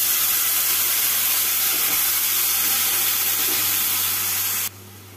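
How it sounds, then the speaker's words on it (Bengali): Minced mutton keema dropped onto fried onions and green chillies in a hot pan sizzles as a loud, steady hiss that cuts off abruptly at the end. "এবার এর মধ্যে মাটন কিমাটা দিয়ে দেবো।"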